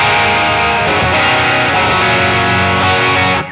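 Overdriven electric guitar played through an HX Effects unit with a Minotaur overdrive pedal, a sustained, saturated chord ringing loud and continuous for a few seconds before cutting off, no talking.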